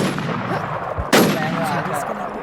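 A single loud gunshot rings out in the video game WarZ during PvP play, a sharp broadband crack about midway through with a short decaying tail over steady game background noise.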